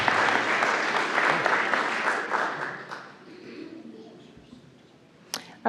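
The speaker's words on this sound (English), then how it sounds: "Let's give them a nice round of applause." At a school board meeting, a crowd gives students a round of applause, steady clapping that gradually thins and fades out, followed by quiet room noise and a couple of sharp clicks.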